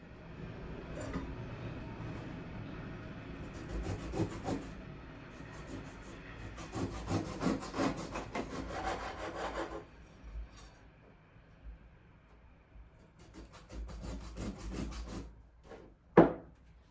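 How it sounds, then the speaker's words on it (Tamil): A knife cuts and scrapes the rind off a raw jackfruit for a Batticaloa-style sothi. Close, repeated rasping strokes come in bursts with no talking. "இந்த பாருங்க தோலையெல்லாம் நான் வெட்டி எடுத்துட்டேன்"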